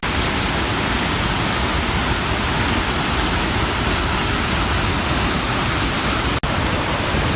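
Farmington Creek waterfall in Utah with a huge volume of water pouring down, a loud, dense, unbroken roar close by, with a single sharp click late on.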